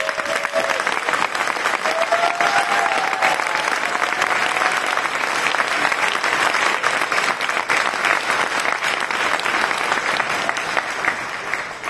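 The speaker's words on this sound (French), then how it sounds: "il faudrait qu'on applaudisse" Sustained, dense applause from a crowd, loud and steady throughout, with a faint voice briefly audible near the start.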